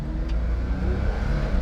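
An automatic-transmission mini truck pulling away under acceleration, a loud, close engine drone holding steady through a brief moment, heard from inside the cab.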